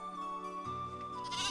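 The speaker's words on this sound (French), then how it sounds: "Prends cette chèvre." A goat bleats in a French children's cartoon about Jesus, one drawn-out, wavering call close up and clear, with no talk over it.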